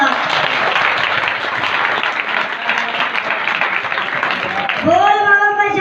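A large crowd at a saint gathering applauds the guru loudly and steadily for several seconds, then a singing voice enters over the fading claps.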